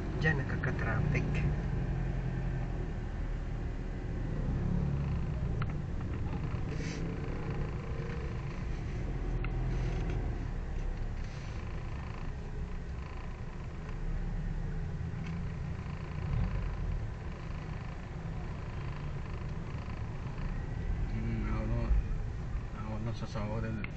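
Steady low rumble of road traffic and idling engines, continuous and moderately near, with people talking over it throughout.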